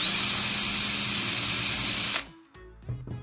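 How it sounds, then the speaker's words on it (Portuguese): A power drill grinding against an iPhone screen protector makes a loud, steady whine that runs for about two seconds, then cuts off abruptly, leaving short, quieter scraping and handling noises. "agora eu concentrei a furadeira em um único ponto aqui"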